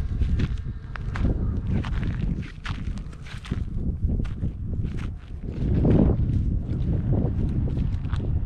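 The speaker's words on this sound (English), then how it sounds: "sorry about the wind." Gusty outdoor wind rumbles and buffets the microphone at a campsite, continuous and loud, with scattered light bumps and knocks through it.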